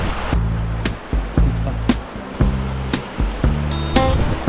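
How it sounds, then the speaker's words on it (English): A small creek at a trail crossing on the Ä'äy Chù West Trail in the Yukon rushes with a steady, close broadband wash, punctuated by regular dull thuds about every half second. "First little creek crossing."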